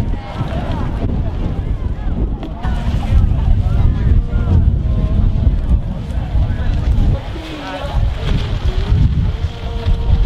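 Gusty wind buffets the microphone at a festival campsite on a bright, breezy day, a steady roar running under nearly continuous talk.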